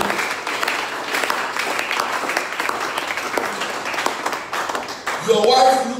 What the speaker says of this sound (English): Are you going to clap for him?